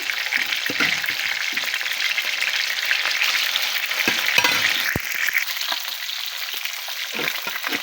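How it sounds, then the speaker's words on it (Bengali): Steady, loud sizzling of koi (climbing perch) fish lightly frying in hot oil, with occasional soft clicks and pops, no voices. "মাছগুলো তেমন কড়া ভাজি করতে হবে না হালকা করে ভেজে নিলেই হবে"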